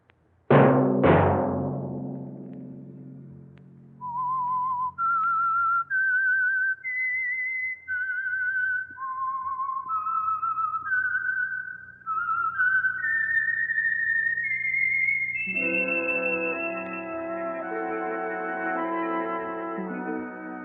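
A clear whistled melody, the signature tune of the radio program The Whistler, stepping through a sequence of sustained notes, follows a couple of sharp opening strikes and then swells with a held orchestral chord.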